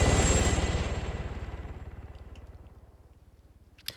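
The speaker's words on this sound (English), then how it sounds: "And now you got the attack helicopter trying to pick off Pogo as Pogo's trying to fight God here" An attack helicopter in a multiplayer military game passes overhead, its rotor chop a steady rapid thump that fades from loud to more distant over about four seconds, ending with a brief sharp click.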